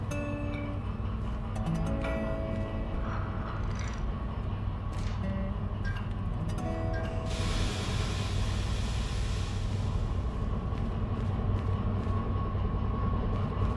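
A DE6 diesel locomotive in the Derail Valley game runs steadily with a continuous low engine drone and rail rumble, a few clicks and clanks early on and a brighter hiss swelling midway, no talk.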